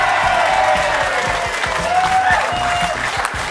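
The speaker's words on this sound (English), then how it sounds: "Keep the applause going." In a television sports talk-show studio, the audience gives loud, sustained applause with some cheering, and a host speaks over it.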